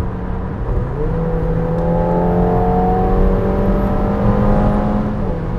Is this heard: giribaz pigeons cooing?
no